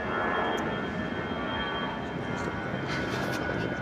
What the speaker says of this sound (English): another plane's coming.